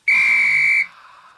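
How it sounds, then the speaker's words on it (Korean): A single loud, sustained whistle blast, piercing and steady, lasting under a second before cutting off, followed by quiet. "지금 뭐 호루라기 소리가 나는데"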